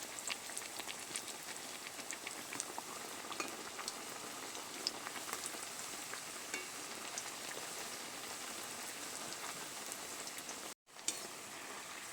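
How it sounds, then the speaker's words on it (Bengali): Sago luchi deep-fry in hot oil, a steady, dense crackling sizzle like light rain that continues evenly, with a brief cut to near-silence near the end. "এগুলো ভাজা হয়ে গেছে, তুলে নিচ্ছি।"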